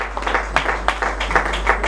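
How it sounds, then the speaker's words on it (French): Audience at a gala award ceremony claps briefly, a scattered, moderately loud patter of hands over a low steady hum. "Aïcha Kende, applaudissons pour le compte de Aïcha."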